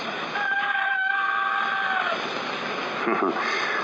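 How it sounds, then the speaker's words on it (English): One of Mrs. Webb's cockerels crows just before dawn on a May morning in 1901, a long drawn-out cock-a-doodle-doo at fair strength over a hissy, noisy background, fading out toward the end. "That was one of Mrs. Webb's cockerels."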